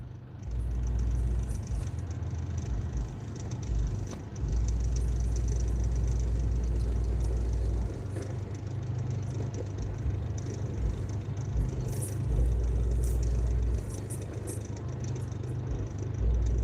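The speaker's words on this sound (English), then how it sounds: "I can't tell what he's playing because the bass is so loud." Heavy subwoofer bass from music played in a nearby car at night, a loud continuous low-end thump and rumble throbbing steadily throughout, with occasional brief drops before resuming.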